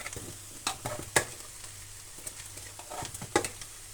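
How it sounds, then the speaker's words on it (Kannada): Sambar boiling in a cooking pot, giving a soft, steady bubbling with a few sharper pops and clicks scattered through it, close and fairly quiet, with no voices. "ನೋಡಿ ಸಾಂಬಾರು ಕುದೀತಾ ಇದೆ"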